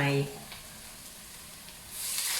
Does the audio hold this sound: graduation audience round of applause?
no